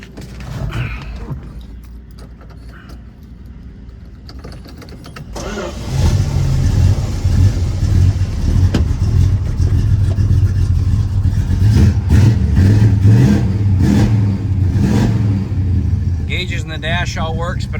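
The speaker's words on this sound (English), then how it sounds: "Let's go in and we'll start this car up. That way you can hear it run." A 1969 Dodge Coronet 500 turns over and fires up, settling into a loud, rumbling idle close by with occasional blips of the throttle, after a quieter stretch of shuffling and handling inside the car.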